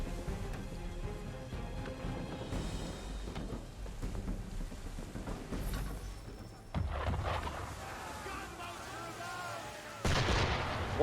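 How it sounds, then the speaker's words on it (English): Cannon and gunfire aimed at a boat in Assassin's Creed 3 Remastered, booming shots and rumbling blasts mixed with rain-like wash, moderately quiet and sustained, a sharper burst near the end. "Why is he shooting at us?"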